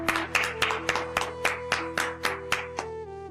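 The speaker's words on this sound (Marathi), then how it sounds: "टाळ्या." A small crowd at a village gathering in a Marathi TV serial claps about ten times in a steady, even rhythm. Sustained background music tones play underneath the claps.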